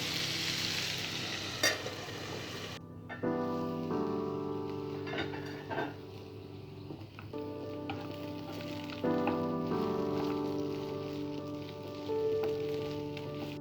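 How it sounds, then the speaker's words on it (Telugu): Ivy gourd pieces fry in oil inside a covered pan for a spicy masala dish, giving a steady close sizzle throughout, with a faint metallic clink or lid sound near the start and a low background hum. "దొండకాయ ముక్కలు వేసిన తర్వాత మూత పెట్టి దొండకాయ ముక్కల్ని బాగా ఫ్రై చేసుకోవాలి"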